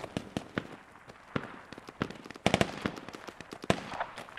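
Artillery fire-for-effect rounds land in the Squad video game as a rapid string of sharp, cracking distant explosions, many irregular bangs popping in quick succession with a denser cluster midway.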